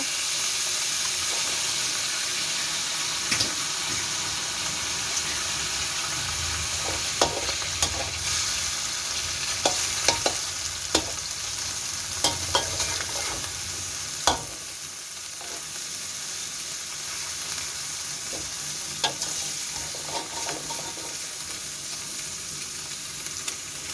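An egg sizzles and crackles in a hot pan while dry pork suki is cooked, a steady bright frying hiss with scattered pops and scraping stirs, close and without talk.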